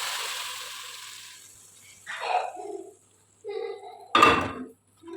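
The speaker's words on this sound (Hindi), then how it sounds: "अब इसके अंदर हमारी जो बघार तैयार हुई पड़ी है हम ये डालेंगे, चूल्हे को बंद करेंगे और इस बघार को इसमें डाल देंगे।" Hot baghar tempering is poured into mung masoor dal. Separate bursts of sizzling hiss and spattering are broken by short quiet gaps, and a sharp clink of metal utensils rings near the end.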